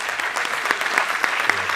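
Brief steady applause from a conference audience honoring physics prize winners, an even patter of many hands with a few sharper individual claps standing out.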